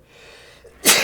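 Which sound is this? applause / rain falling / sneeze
sneeze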